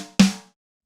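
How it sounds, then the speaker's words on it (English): Single dry snare drum hit without reverb, a sharp close crack that stops quickly and then silence. "So without the reverb, the snare sounds like this."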